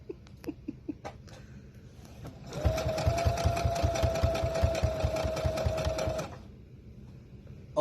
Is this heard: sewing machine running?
yes